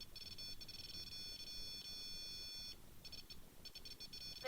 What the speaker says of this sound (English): Look at that REM pod go.